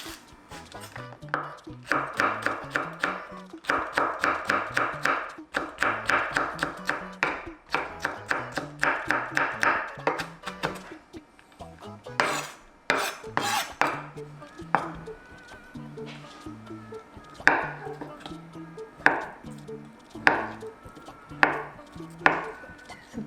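A knife chops vegetables such as paprika and chili finely on a wooden board in quick, rhythmic bursts of sharp taps, then slower separate strikes, with a voice speaking between.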